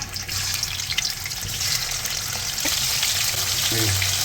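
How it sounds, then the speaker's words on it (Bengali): Pieces of hilsa fish frying in hot oil for a Bengali New Year meal give a steady, close sizzle, with brief watery splashes and faint clatter, and no talking. "তেলটা গরম হয়ে গেছে এখন একে একে মাছগুলো সব দিয়ে দিব"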